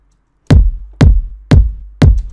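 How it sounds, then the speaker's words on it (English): Four evenly spaced bass drum hits, sampled kicks programmed in FL Studio for the verse of a recreation of a track, each a loud punchy thump with a short decaying tail, alone with no other sound. "and this is the bass drum sound"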